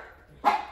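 A Shiba Inu lets out a single short, sharp bark, close and clear, after a moment of quiet room tone.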